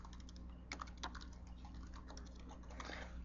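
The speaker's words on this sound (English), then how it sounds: "you'll be able to type in your name and your email address" Quick, light tapping of keys on a computer keyboard, close and fairly quiet, with irregular bursts of keystrokes over a faint steady hum and no talk.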